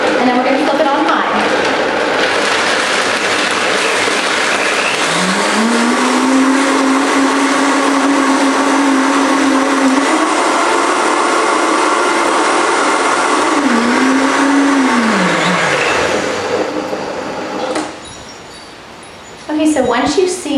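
Variable-speed blender mincing raw almonds into a paste, a loud continuous motor whine whose pitch rises and shifts as the speed changes, then winds down near the end.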